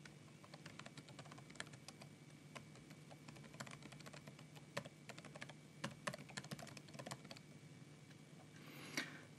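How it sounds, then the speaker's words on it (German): A username being typed on a computer keyboard, with rapid, irregular clicking keystrokes close up and quiet, steady and unbroken for several seconds, with no speech. "Hier tragt ihr nun euren Benutzernamen ein"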